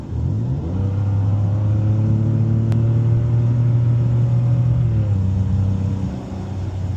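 A 2009 Ford Escape with its muffler removed accelerates hard, giving a loud, steady, throaty engine rumble that climbs in pitch and then eases off near the end, heard up close with no talking.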